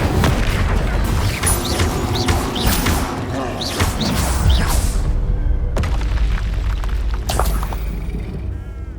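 Spell blasts from the Incendio fire spell in the Hogwarts Legacy video game, several loud booming bursts and crackles over a dense, continuous bed of game action noise.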